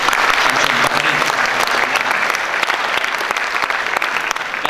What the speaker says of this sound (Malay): Beri tepukan kepada Datuk Syamsun Baharin.